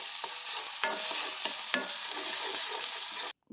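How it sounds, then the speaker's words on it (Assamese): Chicken masala with turmeric and ginger garlic paste fries and is stirred in a pan, a close continuous sizzle punctuated by utensil scrapes and taps, ending abruptly in silence. "আৰু এতিয়া গোটেইখিনি ভালকৈ মিক্স কৰি ভাজি ল'ম।"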